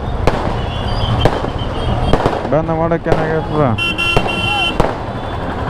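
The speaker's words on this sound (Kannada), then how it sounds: "ಅಬ್ಬಾ ಬಾಬು ಪಟಾಕಿ ಹತ್ರ ಹಚ್ಚಾರ" Firecrackers crack and pop in quick bursts at a Ganesha festival procession in Bengaluru, sharp bangs repeating over a busy street din, with a vehicle horn tooting and people talking nearby.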